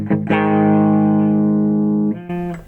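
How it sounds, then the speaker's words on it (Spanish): Distorted Stratocaster electric guitar on its humbucker pickup rings out a single sustained chord, loud and close, after a quick pick attack, then cuts off and restarts briefly at the end. "sonido humbucker"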